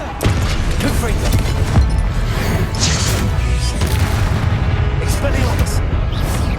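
A Confringo blasting spell in the Hogwarts Legacy video game, fired during an Ancient Titan boss battle, sets off dense rumbling booms and crashes over a continuous loud din of battle noise, with a voice shouting over the fight.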